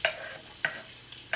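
Onions sauté in hot oil, a soft continuous sizzle broken by three evenly spaced scrapes of a spatula against the pan, close and moderately loud.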